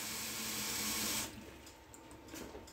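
Kitchen tap running water into a cup, a steady loud rush of flow that cuts off after about a second, leaving faint quiet clatter.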